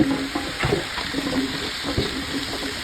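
Onions, squash and zucchini sizzling in oil on a hibachi grill, a steady close frying hiss with scattered spatula scrapes and taps.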